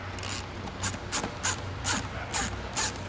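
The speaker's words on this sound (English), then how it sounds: "take your 10mm ratchet spanner and your 4mm Allen key or Torx bit and tighten up those bolts" Ratchet spanner tightening bolts on a front splitter kit of a Hyundai i20N, heard as about seven evenly spaced bright clicking bursts at close range over a steady low hum.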